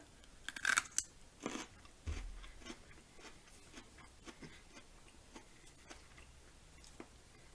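A few sharp crunchy bites into a celery stick followed by quieter chewing, close to the microphone and soft overall, with no speech.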